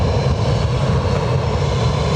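A 15-year-old TUI Belgium Boeing 737-800 departs Lanzarote, its jet engines producing a loud, close, continuous roar with no voices.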